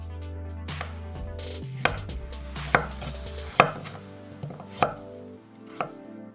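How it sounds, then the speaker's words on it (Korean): Knife chopping peeled broccoli stems on a cutting board: a run of sharp, close thuds at an uneven pace, over a steady low hum, with no talking. "기둥도 껍질을 벗겨내고 적당한 크기로 잘랐다."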